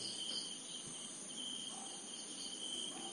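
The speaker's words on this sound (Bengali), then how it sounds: "কেবল বাইরে ঝিঁঝি ডাকছে" Crickets chirping outside at night, a dense, steady high-pitched trill that continues without pause and stays fairly quiet, with no voices.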